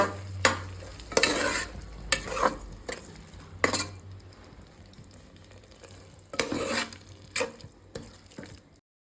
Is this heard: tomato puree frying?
yes